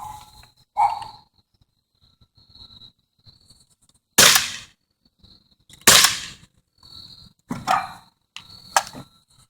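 Airsoft gun firing 5.1 grain BBs at wood, metal and cardboard targets, heard as four sharp, loud snapping shots spaced a second or two apart, with fainter clicks and handling noises in between.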